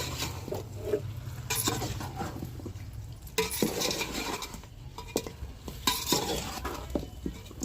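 Chicken pieces for a chicken fry biryani being stirred and mixed in a metal pot, with repeated scraping and wet sizzling bursts of the spoon at close range, a low steady hum underneath and no voices.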